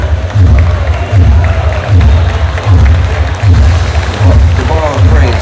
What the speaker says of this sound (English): the crowd clapping for these gentlemen who put on one hell of a match